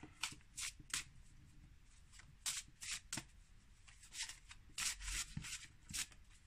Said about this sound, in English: Let's pull some magical time empowerment cards.